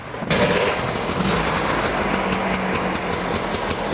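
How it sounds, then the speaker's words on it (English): A small two-stroke vintage Vespa scooter engine kicks into life, then settles into a loud, steady, slightly buzzing idle close by. "Let's go ahead and start the scooter up."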